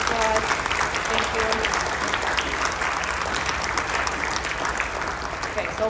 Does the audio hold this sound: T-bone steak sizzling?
no